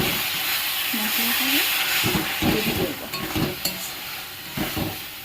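Masala of Kashmiri chili, turmeric and salt fries in a pan for mutton curry, a soft steady sizzle broken by scraping stirs, with a brief voice early on.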